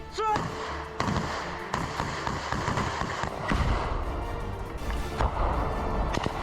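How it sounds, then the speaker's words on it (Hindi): Close-range gunfire from Russia–Ukraine battle footage: loud, irregular cracks and thuds in bursts over a constant noisy background, with faint voices mixed in. "रूस और यूक्रेन के बीच चल रही जबरदस्त गन बैटल की बहुत क्लोज तस्वीरें हैं।"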